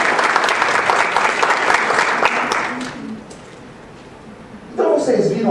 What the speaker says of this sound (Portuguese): vamos agradecer, palmas para as duas pela participação